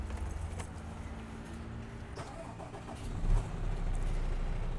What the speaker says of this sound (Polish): Spróbujmy uruchomić silnik.